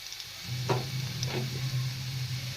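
Chopped onion sizzles in hot oil in a pan, a soft steady frying hiss with a couple of stirring scrapes, and a low hum running underneath.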